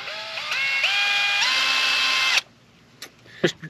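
A power drill whines steadily for a couple of seconds drilling into bamboo, its pitch stepping up as it speeds, then stops, followed by a few sharp clicks and knocks.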